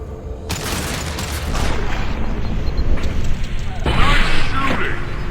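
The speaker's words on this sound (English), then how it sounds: "The crates in the transport carriers overhead are rigged to explode when dropped." Rigged crates burst in a video game firefight, with a heavy blast early on and another around the four-second mark, mixed with clanking debris and shooting.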